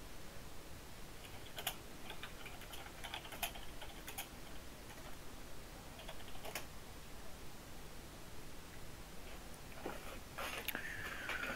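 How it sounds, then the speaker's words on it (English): Faint keyboard typing comes in quick, irregular bursts of clicks on a computer keyboard, sitting quietly in the background beneath a steady hiss during an online racing league broadcast. "I hear you typing away in the background."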